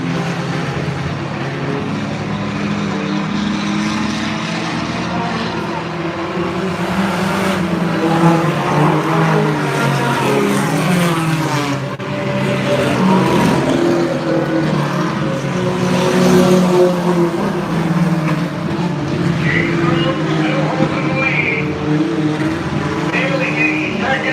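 Sprint cars race a championship event at Unity Raceway, their engines roaring and surging as they pass, swelling and fading in waves under a running commentator's voice.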